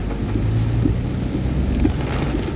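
Steady rain falls on a moving vehicle, a close, continuous wash of drops mixed with low road and engine rumble, with no talking.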